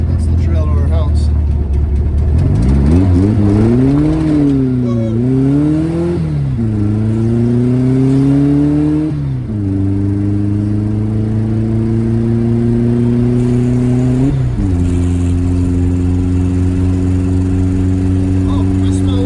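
A Volkswagen Beetle with a freshly tuned carburetor drives on a road, its engine loud and close, revving and shifting up through gears in rising sweeps before settling into a steady drone.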